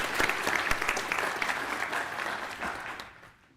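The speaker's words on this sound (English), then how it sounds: "Round of applause for Casey" Applause from the audience at a school board meeting honoring a community partner, a steady burst of clapping that fades out near the end.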